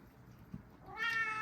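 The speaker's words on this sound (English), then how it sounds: "there's a cat here" A chatty pet cat gives a single clear meow near the end, preceded by a soft low thump in an otherwise quiet room.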